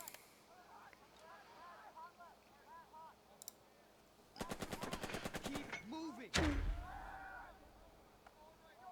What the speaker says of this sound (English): we will pepper them with fire from this MG